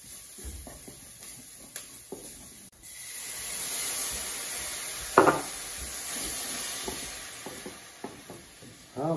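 Onions and condiments sizzle steadily while frying in a pan for a lamb colombo, with a continuous hiss, occasional stirring scrapes and a louder clatter midway, no talk over it.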